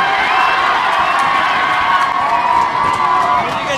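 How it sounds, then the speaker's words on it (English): A rugby crowd roars and cheers steadily and loudly after an Ireland penalty in a women's international against England, with no speech over it. "The reaction of the crowd. They sense the match winning score here."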